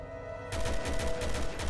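Gunfire aimed at a monster in Resident Evil 6, a rapid string of loud shots starting abruptly half a second in and continuing steadily to the end over a low steady hum, with no talking.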